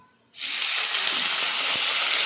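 Buttermilk poured onto a hot tempering sets off a sudden loud hiss after a brief quiet moment, then keeps sizzling steadily and close by.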